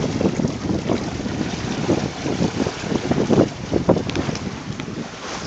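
Steady, loud wind gusting around a Unicorn sailboat with a cut-down lug rig and steel centerboard on a breezy day, buffeting the microphone with water and hull noise beneath, continuous throughout.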